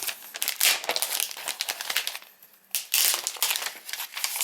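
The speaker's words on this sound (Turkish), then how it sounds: "şuradaki tebi tutup çekerek açıyorum" Cardboard and plastic crinkle and rustle as the tab is pulled to open an Apple Magic Trackpad, Magic Mouse and Wireless Keyboard box, in close bursts of crackling with a short quiet pause midway.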